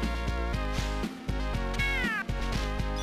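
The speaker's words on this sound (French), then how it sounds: "Alors les chats sont méchants dans le jeu." Cats meowing in the Moonwalker video game, two rising synthesized meows cutting through looping chiptune-style game music with a steady beat, close and loud.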